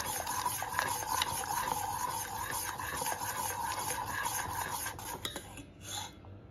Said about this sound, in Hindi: इसको कंटिन्यूस चलाना है हमें जब तक ये थोड़ा गाढ़ा ना हो जाए